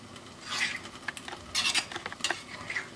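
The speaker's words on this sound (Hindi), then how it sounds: "सभी मसाले दही में अच्छे से मिक्स हो जाए इसलिए अच्छे से फेंट लेंगे इस तरह से" A spoon whisks spices into yogurt in a bowl, giving quick irregular clinks and wet scraping strokes that come in bursts, close and moderately quiet.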